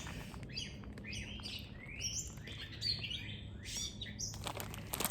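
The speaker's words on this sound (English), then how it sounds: "And you can hear them. Do you hear them? They're calling for their friends." Songbirds call and chirp around a backyard bird feeder stocked with seed, a busy overlapping chorus of bright tweets close by, with faint wing flutters and low background hum.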